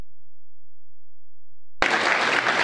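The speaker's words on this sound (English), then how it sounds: "That applause goes to them" After nearly two seconds of near silence, loud audience applause at a brotherhood summit bursts in suddenly and continues as a dense, steady roar of clapping.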